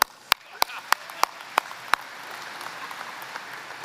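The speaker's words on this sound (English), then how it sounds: "Give him a round of applause." At a VFW business session, a few loud, sharp handclaps ring out in a steady rhythm over soft crowd clapping, then fade into a quieter patter as a voice speaks.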